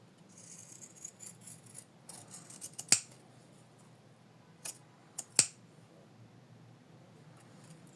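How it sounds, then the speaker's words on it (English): Zigzag scissors trimming fabric, a few sharp snipping cuts with light rustling between them, close and crisp in an otherwise quiet room. "I got such zigzag scissors, but you can use any scissors you choose for it."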